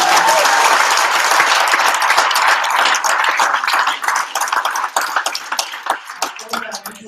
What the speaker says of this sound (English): Big round of applause to our judges.